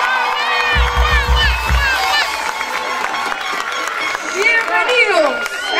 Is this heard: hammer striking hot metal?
no